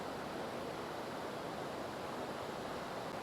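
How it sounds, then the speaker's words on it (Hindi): A fast-flowing, clear green river in dense forest in the Dibang Valley, Arunachal Pradesh, heard as a steady, loud, broadband rush of water that continues without a break. "जो नदी बह रही है, इसका हरे रंग का पानी कितना अच्छा लग रहा है ना, एकदम साफ पानी है"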